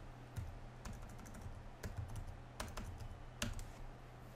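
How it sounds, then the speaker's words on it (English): Typing on a computer keyboard into a Google Chrome search while screen sharing, a few scattered close key clicks over a low steady background hum, with no talk. "I'm gonna just type in yeah, Google Chrome Store"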